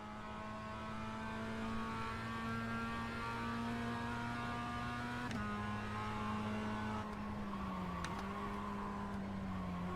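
Race car engine in the iRacing sim holds a steady, loud drone with harmonic whine, shifting pitch abruptly twice as gears change, continuous and close throughout.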